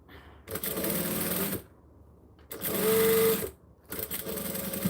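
Sewing machine backstitching fabric during a sewing session, running in three close, steady bursts of rapid stitching separated by brief pauses.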